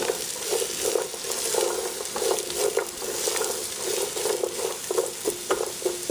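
Peppers, celery and onions stir-fry in a pan for sweet and sour shrimp with noodles, a steady close sizzle broken by frequent light scrapes and taps of a utensil in quick, uneven rhythm.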